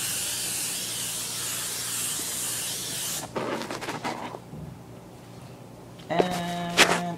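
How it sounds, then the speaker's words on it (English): Cooking spray hissing onto a griddle in one long close burst that stops abruptly, followed by quieter scraping and clattering handling sounds. "Now we spray it. The griddle, not the batter."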